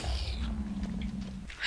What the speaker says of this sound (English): It's a zombie pig, man.